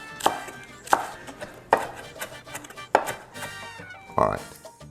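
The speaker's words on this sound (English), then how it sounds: "We want to chop this pretty good." Cilantro being chopped with a knife on a board for carne asada: five or six sharp, distinct knife strikes at an uneven pace, close and fairly loud, with no talking.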